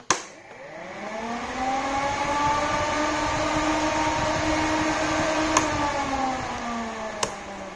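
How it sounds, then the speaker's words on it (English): A Honda TRX 400ex quad's cooling fan starts with a click and settles into a steady, close whirring hum, broken by a couple of sharp clicks later on. "Here comes the fan."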